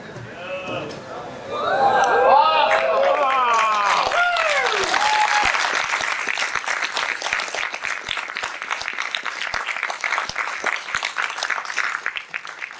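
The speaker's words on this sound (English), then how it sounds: "Big round of applause again." Crowd applause at a Classic Gaming Expo collectibles auction builds after a few seconds of voices and then continues as dense, lively clapping of many hands for the rest of the stretch.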